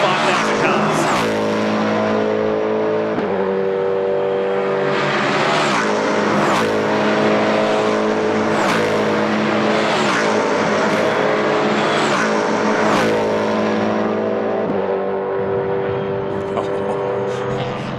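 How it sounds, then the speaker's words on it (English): S5000 race cars roar past one after another during qualifying at The Bend, engines screaming at high revs and rising then falling in pitch as each one sweeps by, loud and continuous. "let's crank it up at home and have a listen to these amazing S5000 cars"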